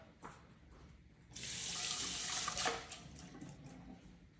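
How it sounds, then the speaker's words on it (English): A kitchen tap runs while hands are rinsed under it, a steady splashing stream that starts abruptly, carries on for about two seconds, then drops away to quieter trickles. "Let me rinse my hand off."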